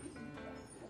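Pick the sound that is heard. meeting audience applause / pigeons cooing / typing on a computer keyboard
pigeons cooing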